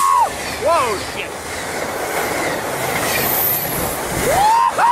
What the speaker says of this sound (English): that train was moving so quickly, it rocked the whole platform